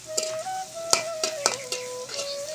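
Onions fry in a pan, and a spatula strikes and scrapes the pan in a few sharp, irregular clacks over a soft sizzle, close and brief.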